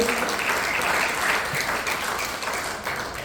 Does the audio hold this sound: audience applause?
yes